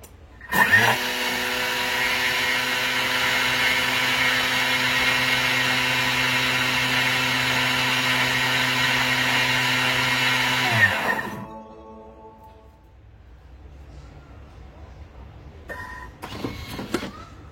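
A Thermomix TM6 at speed 9 grinding sugar into icing sugar: a loud, steady high-pitched motor whine that starts abruptly, holds for about ten seconds, then winds down, followed by faint handling noises.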